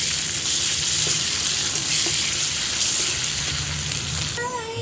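Ginger garlic paste with onions sizzles in a pan with a loud, continuous frying hiss that stops abruptly at the end, with no talking.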